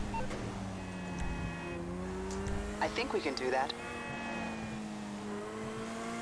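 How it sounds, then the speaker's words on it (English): Loud car engine in a driving video game, a steady low drone with shifting revs running through the whole stretch while someone talks over it. "This car is very loud."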